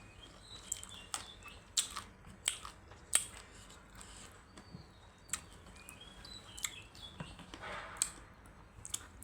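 Someone bites and chews a sour Thai mango with tough skin, giving a series of quiet, sharp crunches scattered irregularly over a faint background.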